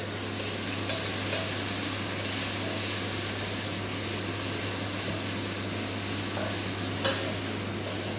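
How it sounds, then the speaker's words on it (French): Tuna sizzling and frying in a pan for a pasta with tuna and cream sauce, a steady broadband hiss with soft stirring scrapes throughout, close and continuous, no talking. "Donc à ce moment-là, on y rajoute le thon. On va faire revenir"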